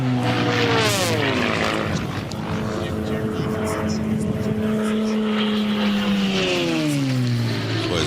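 At the Reno Air Races, a propeller race plane in the sport class roars past close by, its engine pitch sliding downward as it goes by, while a commentator talks over the noise.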